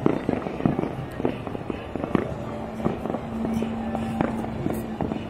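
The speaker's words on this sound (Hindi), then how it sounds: "देखिए किस तरह से आतिशबाजी का आनंद लिया जाता है।" Fireworks crackle and pop in rapid, overlapping bursts on Makar Sankranti night in Jaipur, a dense continuous barrage at mid distance with a faint crowd murmur underneath.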